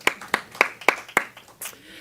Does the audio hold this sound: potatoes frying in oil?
no